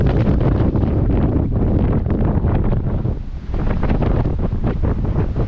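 Strong, ferocious wind roars continuously on a West Virginia mountain ridge, buffeting the microphone with loud, gusty rumble that dips briefly midway before surging again.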